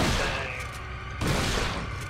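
Gunfire in Resident Evil 4: a dense, loud blast with a rumbling tail, then a second sharp report about a second later, close and unaccompanied by talk.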